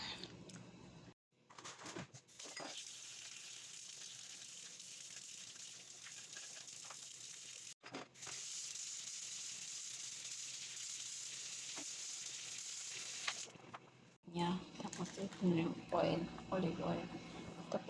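Garlic and onion sizzle in a hot pan with a steady frying hiss that cuts out briefly twice, followed by someone talking at the end.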